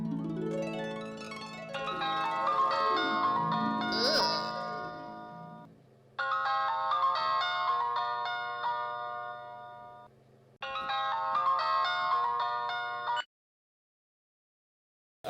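A mobile phone ringtone plays a melodic, bell-like tune in three loud bursts with short pauses between them, then cuts off, with no talking over it.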